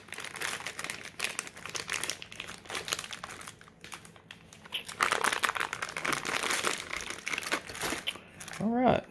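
Packaging of a USB microphone being opened, with crinkling and rustling of wrapping and tape in several bursts, close by and fairly quiet, ending with a brief bit of talk.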